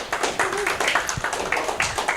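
An audience claps for a mentor being introduced, with a short burst of fairly close, uneven clapping and a few louder individual claps scattered through it.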